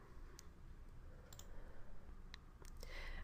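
A few sharp, faint computer mouse clicks, one landing on a Save button, ring out over a quiet room hum with no talking.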